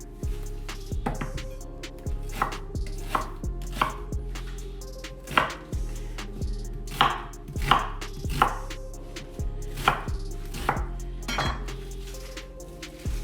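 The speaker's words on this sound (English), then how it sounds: "Just a rough cut on the onion." Rough chopping of an onion with a kitchen knife on a cutting board, a steady series of close, sharp knife thuds with some irregular faster strokes, no voices.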